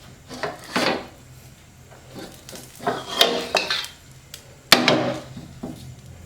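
A burnt frying pan is flipped over and handled on a hot, smoking stove, giving several scattered metallic clanks and scraping knocks, with a sharper clatter near the end, close and fairly loud with no talking.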